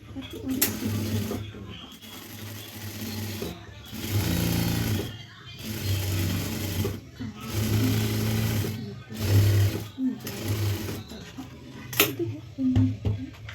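A sewing machine stitches the sleeve of a frock in bursts of fast rattling whir, stopping and restarting between runs, with someone talking over it.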